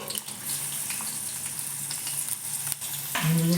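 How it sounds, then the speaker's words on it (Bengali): Chopped onions dropped into hot oil in a wok on a gas flame in a village kitchen, giving a steady close sizzle and crackle that swells louder near the end. "তো পেঁয়াজ কুচি দিয়ে দিচ্ছে"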